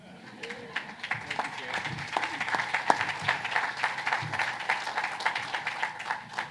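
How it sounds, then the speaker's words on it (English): A crowd at an outdoor cancer center ribbon-cutting ceremony claps and cheers after a prayer, with steady, fairly close applause and scattered voices throughout. "I'm glad you were able to allow folks to cheer."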